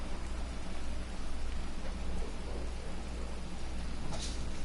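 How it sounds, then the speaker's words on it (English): A rainstorm in Skyrim pours down, a dense, constant hiss of rain on surfaces close by with a faint low rumble of thunder underneath. "These realistic storms."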